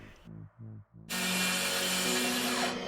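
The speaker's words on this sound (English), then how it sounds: "You may notice I'm using my DeWalt track saw to cut the plywood" A DeWalt track saw spins up and cuts through 3/4 inch finished grade plywood, loud and close. A few short low rasping strokes come first, then a steady whining rip runs for almost two seconds and ends with the blade winding down.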